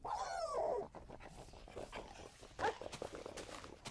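Dogs in a survival video game whimper and pant, with soft paw steps and short vocal bursts, one louder near yelp partway through.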